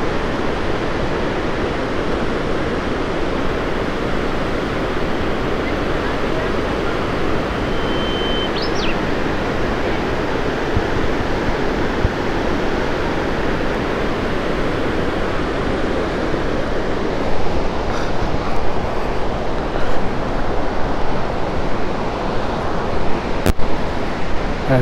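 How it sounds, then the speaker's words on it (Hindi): A mountain waterfall dropping from a great height beside the Yamunotri trekking route, a steady broadband rush of falling water that stays constant and fairly close without speech. "काफ़ी ऊंचाई से झरना आ रहा है।"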